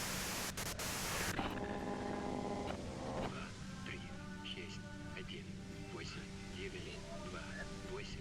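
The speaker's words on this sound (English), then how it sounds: "you can do it through the white noise" Radio white noise hissing steadily in the video game Disco Elysium, a loud broadband static burst at first that settles into a softer hiss under game music and tones.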